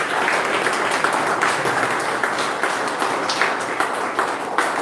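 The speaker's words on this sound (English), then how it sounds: "So let us all give him a good round of applause." Audience gives a round of applause after a doctoral defence, a sustained, even patter of many hands clapping in a room, with no talking over it.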